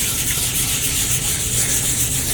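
Continuous hissing friction of 400-grit sandpaper rubbing against turned wood, a steady even scratching with no pauses and no talking.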